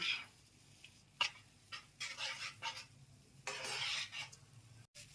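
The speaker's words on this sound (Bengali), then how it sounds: "এটা আমরা নাড়া দিতে থাকবো যতক্ষণ একটা মন্দির মতন না হবে আমরা এটা নাড়া দেবো" A spoon scrapes and stirs chana dal and coconut mixture in a pan, with irregular brushing strokes over a soft, low sizzle.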